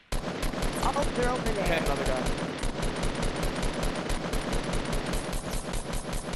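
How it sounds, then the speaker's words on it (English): Rapid bursts of gunfire from the video game Fortnite, loud and continuous throughout, with a player's voice briefly talking over the shots. "Oh, I still hear some shots."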